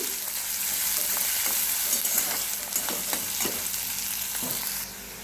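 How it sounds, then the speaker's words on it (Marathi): Chopped onion fries in a pan until reddish, with a continuous close sizzle and repeated scraping stir strokes, then fades slightly near the end. "कांदा पण आपल्याला लालसर असा भाजून घ्यायचा आहे"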